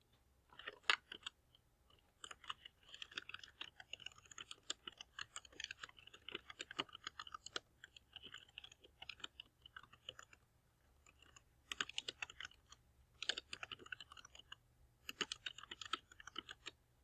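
Quiet bursts of typing on a computer keyboard, irregular clicking runs separated by short pauses, close and alone.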